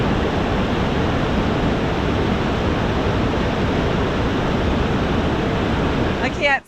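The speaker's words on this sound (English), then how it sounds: "I can't stand right next to the water to talk because it's very loud." A loud waterfall in British Columbia sends a dense, unbroken roar of rushing water that stays even throughout and fills the scene close by, ending with a brief faint chirp.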